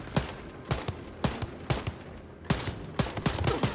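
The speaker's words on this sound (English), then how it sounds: "that tap fire is working out for us, kind of, not really" In Wolfenstein: Youngblood, a gun fires in tap bursts: short, loud volleys of shots repeat at roughly half-second intervals and grow denser toward the end, with no talking.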